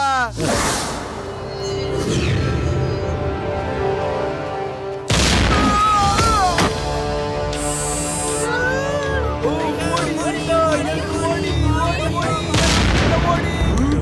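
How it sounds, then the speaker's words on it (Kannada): An explosion blast effect in an animated Motu Patlu cartoon hits as a loud broadband burst at the start and again midway, surrounded by music and cartoon voices. "ಈ ಬ್ಲಾಸ್ಟ್ ಆಗಿರೋ ಶಬ್ದ ಎಲ್ಲಿಂದ ಬರ್ತಿದೆ?"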